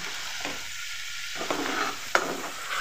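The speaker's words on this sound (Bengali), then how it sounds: "এবার আমি ভেজে রাখা চিংড়ি মাছটা দিয়ে দেবো" Fried shrimp stirred in a pan of garlic shrimp in a village kitchen, a steady close sizzle with a sudden drop when the shrimp go in, then scraping stirs and a sharp clink of the utensil.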